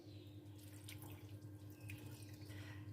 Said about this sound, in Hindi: अभी हम आलू में ठंडा पानी ऐड कर देते हैं।